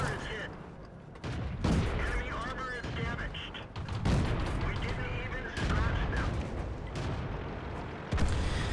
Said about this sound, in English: This kind of shootout could have very easily ended up by the mine